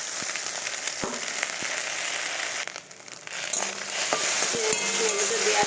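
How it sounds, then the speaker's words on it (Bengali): Maggi noodles fry with eggs in a pan, a loud, continuous sizzle broken by scraping stirs and a few sharp knocks of the utensil against the pan. "ম্যাগিটা দেওয়ার পর একটু নাড়িয়ে চাড়িয়ে নেবো, হালকা একটু ভেজে নেবো ম্যাগিগুলো।"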